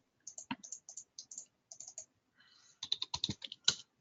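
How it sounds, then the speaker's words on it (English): Computer keyboard typing during a midweek market strategy webinar, with quick, irregular key clicks in short bursts, then a denser flurry of louder keystrokes near the end, close and without talk. "I'm sitting here and I'm typing dollar euro instead of euro dollar"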